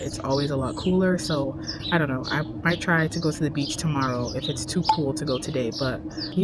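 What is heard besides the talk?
birds chirping outdoors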